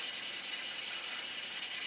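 Sandpaper rubbed in a steady circular motion over a filled seam, giving a continuous soft, hissing scratch that stays close and even throughout.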